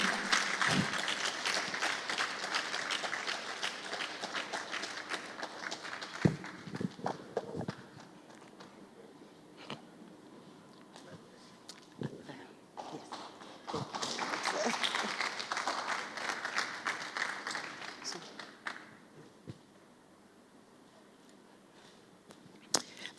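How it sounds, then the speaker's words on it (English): An audience at a media lecture breaks into applause for a speaker, steady clapping that swells, thins out, then rises again before fading, with scattered footsteps and some talking underneath. "Please, a rousing welcome of applause."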